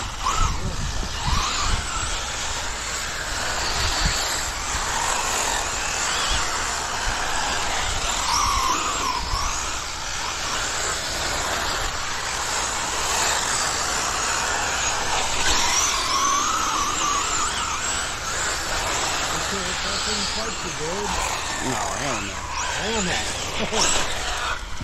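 A Tekno ET48 RC car spins out on a track under too much throttle, giving a continuous, loud high-pitched motor whine with scrubbing tire noise that barely lets up, and voices are heard faintly underneath.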